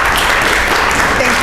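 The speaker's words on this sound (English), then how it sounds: "Let's give her another round of applause" Audience applause at an annual meeting, a dense, loud burst of clapping from a crowd that fills the whole moment without a break.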